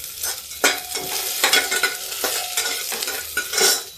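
Garlic and chilies with ajwain sizzle steadily in a pan while a spoon stirs them in repeated scraping strokes, close and moderately quiet with no talk.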